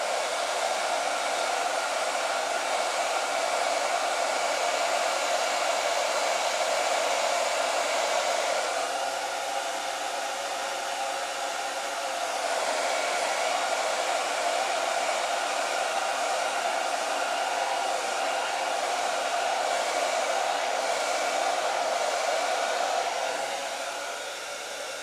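A blow dryer runs steadily for a long stretch, a loud continuous whooshing roar while it heats a thin dbrand vinyl skin, with a brief dip in intensity partway through before it resumes.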